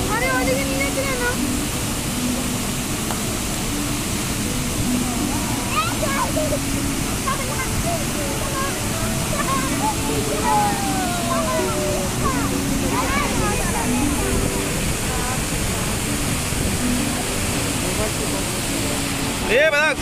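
Chitrakote Waterfall west of Jagdalpur roars as a steady, loud broadband rush of falling water throughout, with people talking and calling out over it.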